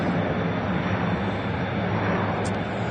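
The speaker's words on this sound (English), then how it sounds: "Emirates A380 taxiing back" Emirates Airbus A380 taxiing at Manchester Airport, a broad continuous jet engine roar heard from a distance outdoors, steady and loud without letting up.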